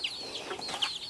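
Farm chickens in a pen give a few soft, scattered clucks and squawks at moderate distance, with no talking.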